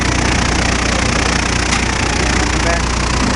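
A juggler machine in the Dearborn Axle plant shaking down axle parts while an axle spins inside it, a loud, steady, close industrial roar and rumble that never lets up.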